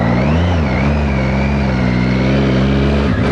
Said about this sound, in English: Just keep revving it because it sounds so good.